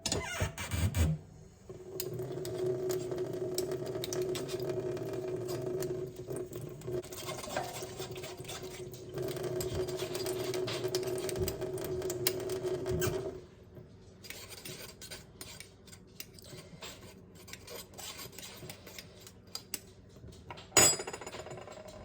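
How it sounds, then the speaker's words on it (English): A spoon squishes dragon fruit flesh through a metal strainer to free the seeds, making soft rhythmic rubbing and scraping in long stretches that stop and start with short pauses, quiet and close, with no talking. "Then I'm going to use a spoon and squish the fruit away from the seeds and rinse that off."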